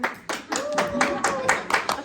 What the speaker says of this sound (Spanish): Bueno, un aplauso al hermano Helio y a la hermana Lete.